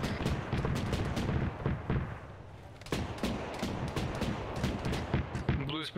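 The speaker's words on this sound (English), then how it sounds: "Get your heads down, that's an autocannon." Autocannon fire in an Arma military game, a steady run of loud, sharp bursts and rapid thumps over about six seconds, with a short pause near the middle and brief radio-style voices mixed in.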